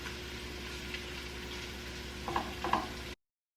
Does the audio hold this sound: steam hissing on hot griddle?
no